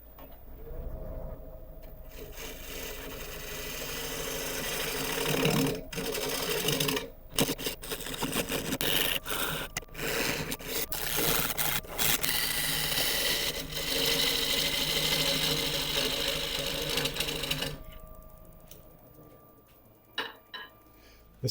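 A wood lathe turns a branch-crotch blank while a chisel whittles it down, giving a continuous scraping, chattering cut with sharp catches and brief gaps, close by, before the tool lifts away and the spinning quiets.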